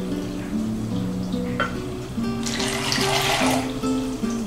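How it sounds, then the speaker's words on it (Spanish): Hot water poured into a cup while making orange gelatin, a broad steady splashing pour that swells toward the end over low background hum, with no talking. "vamos a poner el agua caliente en la taza."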